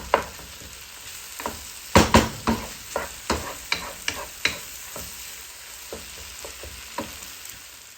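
Okra (bhindi) cooks in a covered pan: a low, steady sizzle is broken by a series of sharp, close clanks and stirring knocks, clustered mostly in the middle.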